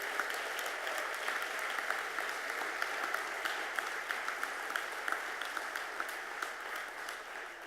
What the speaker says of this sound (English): So let's give another big round of applause to all of our award recipients tonight.